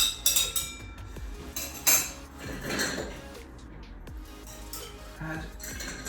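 A spoon clinks against a glass while stirring a cordial and ginger ale cocktail, producing several bright chinks and rattles, close up, strongest at the start and then settling into quieter stirring.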